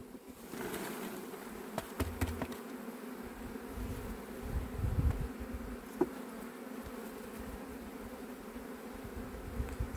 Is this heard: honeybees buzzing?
yes